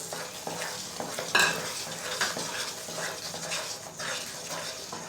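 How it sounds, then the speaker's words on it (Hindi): Sesame chikki mixture being stirred in a pan, with continuous close scraping and clattering of a spoon against metal over a soft sizzle, one sharper clank partway through, and no voices. "और इसे अच्छे से मिक्स कर लेंगे।"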